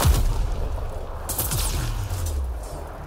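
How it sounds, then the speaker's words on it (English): A bomb goes off in the sci-fi game Mass Effect: Andromeda, a deep booming blast with low rumbling tail and a crackling burst of debris, loud and close. "I totally didn't notice a bomb going off in my presence"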